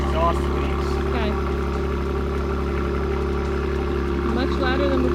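Dodge Challenger V6 with a Borla S-type cat-back exhaust idling up close, a loud, steady, low rumble throughout, with people talking over it.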